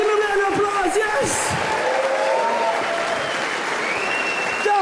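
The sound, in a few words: comedy show audience applause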